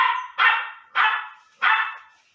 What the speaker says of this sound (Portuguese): Isso aí é o Linus latindo